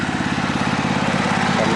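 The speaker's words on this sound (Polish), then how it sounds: "Teraz jadę bez kosza, tam z tyłu te ugory kosić wszystkie." A lawn mower runs without its grass catcher while cutting fallow ground behind a greenhouse, its engine a loud, close, steady drone with a rapid throbbing pulse throughout.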